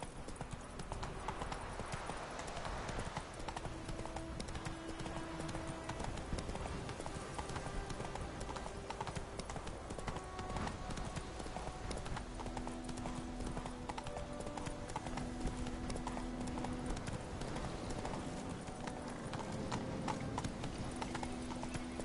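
Geralt's horse Roach trots in The Witcher 3, steady clip-clopping hoofbeats continuing throughout at close range, with soft tonal game music in the background.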